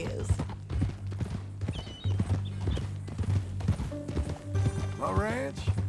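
Horse hooves clip-clopping in Red Dead Redemption 2, a steady rhythm of close hoof falls under ongoing male speech, with a brief whinny-like call near the end.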